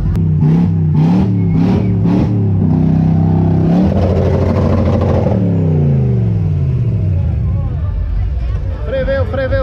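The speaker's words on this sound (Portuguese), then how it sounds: "E o V8 tá comendo ali." A V8 car engine revs loud and close at a classic car meet, rising and falling in strong bursts before easing into a steady rumble, with a crowd chattering nearby.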